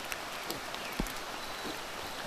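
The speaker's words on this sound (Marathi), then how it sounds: "पाऊस पडतो एकदम" Rain falling steadily near a stream bridge, a faint soft patter with scattered drop hits, no voices.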